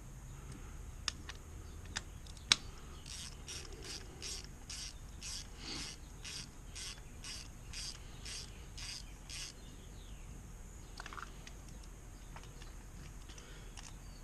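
A hand ratchet snugs spark plugs on a 2005–2010 Chevy Aveo, a faint, rapid run of about a dozen evenly spaced clicks in a quiet garage, preceded by a few isolated metallic taps.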